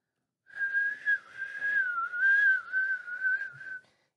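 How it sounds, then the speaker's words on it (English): A single person whistling one sustained wavering tune, clear and fairly quiet against silence, starting after a short pause and lasting about three seconds before stopping. "We whistle while we work."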